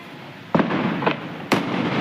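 Diwali firecrackers burst at home, with three sharp, loud pops spaced about half a second apart, each followed by a crackling hiss.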